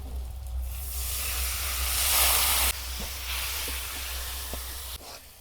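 Ginger-garlic paste water poured into hot oil with chopped tomato, turmeric and chilli for a Bengali mrigal fish curry sets off a loud, steady hissing sizzle that swells midway, then eases, with a few faint utensil taps.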